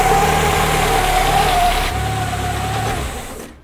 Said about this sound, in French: à part ça, il marche bien ce moteur